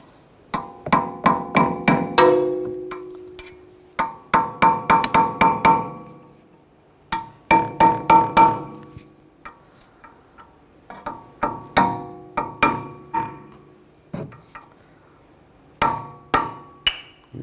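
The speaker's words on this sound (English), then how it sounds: "use a chisel and a hammer, just give it a tap" Sharp metallic strikes of a hammer tapping a chisel against a metal cap on a 2011-2018 Volkswagen Jetta rear wheel hub ring out in quick bursts of several taps, pausing between clusters, close and loud with a bright clinking edge.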